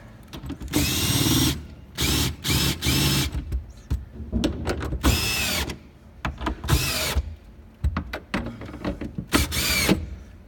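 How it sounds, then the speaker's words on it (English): A power tool drives bolts into a storage bin fitted in a 2019 Ford Ranger Dual Cab, sounding as repeated loud, close whirring bursts of one to two seconds separated by brief pauses. "we've started our bolts so you can bolt it into position"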